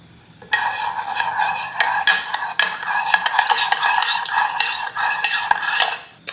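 Yeast is stirred into a cup with a utensil, producing rapid close clinks and scraping taps against the sides in an uneven rhythm, heard alone with no talking.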